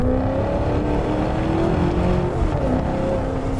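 A Maserati GranTurismo S with its 4.7 engine roars loudly and steadily while driving, a deep continuous growl with rising and falling harmonic tones as the revs shift.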